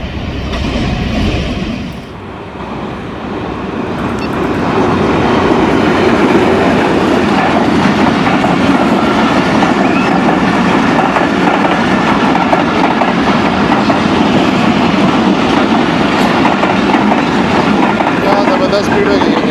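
Rehman Baba Express pulling into Dina railway station at speed, a loud, sustained roar with steady clickety-clack of wheels and rail noise building after a brief lull and continuing throughout, with a voice talking faintly underneath.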